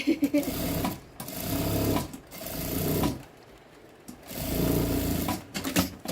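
A sewing machine stitches a seam on a double-lined box-style zip pouch, running in loud bursts separated by short pauses while someone talks over and between the stitching.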